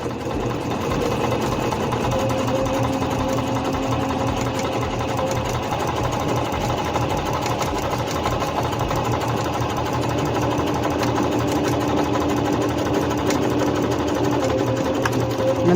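A Singer C5605 electronic household sewing machine stitching a straight seam, its motor humming steadily with a rapid needle rhythm throughout, close and continuous with no talking.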